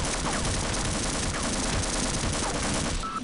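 Rapid automatic gunfire from the video game Half-Life, a dense, steady stream of shots at moderate distance lasting the whole stretch, with no talking.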